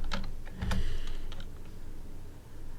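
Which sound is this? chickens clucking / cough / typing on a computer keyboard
typing on a computer keyboard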